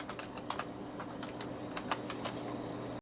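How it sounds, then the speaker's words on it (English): Keys clatter on a computer keyboard as a disk partitioning command is typed into a PC's administrator command prompt, a quick irregular run of close clicks over steady low hum. "And then I type into here disk part."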